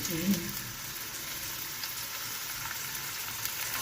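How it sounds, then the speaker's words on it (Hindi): Chopped onions fry in a pan with a steady, soft, even sizzle that continues for a few seconds without breaks. "यहाँ पे हमने प्याज शामिल कर दिया है। इसको हमने थोड़ा सा सॉफ्ट होने देना है"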